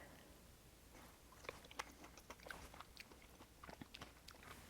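A JH Adriatic fig is chewed close up, with soft wet mouth sounds and faint crunches of small seeds in an irregular rhythm, quiet and without talk.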